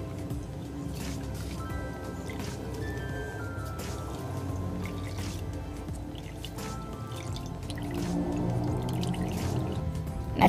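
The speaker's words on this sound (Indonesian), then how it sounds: "kita peras seperti ini sampai airnya habis" Liquid drips and trickles steadily as marinated chicken with spices is squeezed by hand, a soft continuous wet patter with small squishes, close and moderately quiet throughout.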